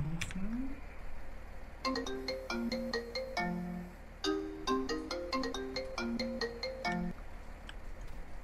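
A phone call ringing in Farming Simulator 19: a bright electronic ringtone melody plays twice in clear repeating phrases over a faint steady background hum.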